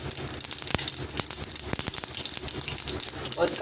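Mustard seeds and urad dal sizzle in a little hot oil in a kadai, giving a soft frying hiss punctuated by irregular sharp pops and crackles, close by and without speech.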